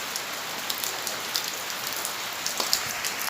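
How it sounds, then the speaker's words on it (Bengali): The season's first summer rain falls steadily from dawn: a dense, even patter of drops on surfaces, with occasional louder taps close by and no voices. "বর্ষা বৃষ্টি গরমের বৃষ্টি এই প্রথম কাল থেকে ভোরবেলা থেকে শুরু হয়েছে দেখো"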